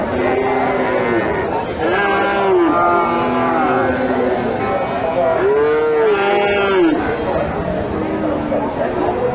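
A home-raised cow at a large cattle market in North Bengal moos repeatedly, several long loud calls close by, with people talking in the background.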